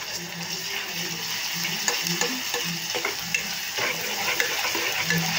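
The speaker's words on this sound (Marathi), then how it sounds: "आणि हा कांदा छानसा परतून घेऊ। आता अद्रक लसूणची जी पेस्ट आपण केली ती घालून घेऊया।" Onion with ginger-garlic paste frying in a pan for a restaurant-style dal, giving a steady, dense sizzle with occasional soft scrapes and taps of a spoon, close and without talk.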